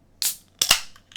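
A can of marshmallow stout cracks open with a sharp pop, then a second louder hiss-snap and a brief fizzy tail, heard up close with no talking.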